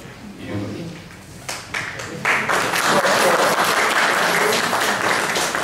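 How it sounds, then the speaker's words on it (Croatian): An audience at a left-wing political meeting in Split breaks into applause. It begins after some talking, swells to loud sustained clapping and holds for several seconds, with a voice over the start. "Ovo je apsolutno za neki aplauz"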